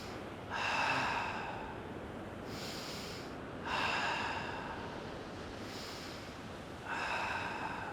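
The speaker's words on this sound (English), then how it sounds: "Take a deep breath in." During sunrise beach yoga, a person draws slow, deep, audible breaths in and out, close and clear, repeating in about three long cycles over a steady background hush.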